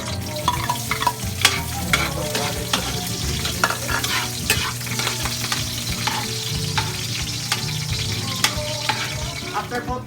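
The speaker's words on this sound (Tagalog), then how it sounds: "Oil is already hot. You will now put the garlic," Garlic, onion and ginger fry loudly in hot oil, giving a continuous close sizzle broken by the repeated scrape and clatter of stirring throughout.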